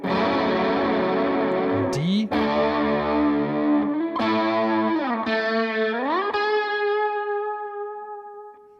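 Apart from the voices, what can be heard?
electric guitar with effects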